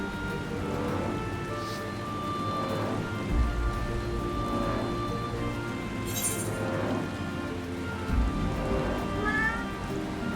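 A cat meows repeatedly in Final Fantasy XIV, with several short, moderately loud calls spread over a steady patter of rain and a low, constant game ambience.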